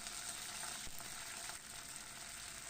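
Mustard seeds, dried red chillies and curry leaves tempering in hot sesame oil give a steady, close, even sizzle throughout with no talking.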